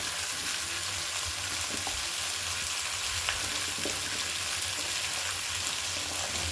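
Cut radish sizzles and fries in a pan for a Bengali mixed-vegetable chorchori, a steady, dense hiss with occasional stirring clinks, close and continuous without speech.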